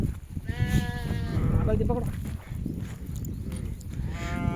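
Sheep bleat repeatedly in wavering, nasal calls, a flock nearby, with a voice talking underneath and general farmyard noise.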